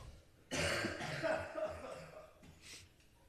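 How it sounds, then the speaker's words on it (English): A close, harsh cough erupts, followed by a few raspy throat-clearing coughs that fade out, with no talk over it. "You just made me laugh, and now I'm coughing."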